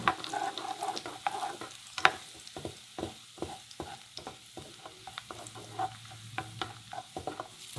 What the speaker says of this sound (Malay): Kemudian gorengkan pula sedikit kismis hitam. Goreng hinggalah kismisnya naik kembang macam belon gitu.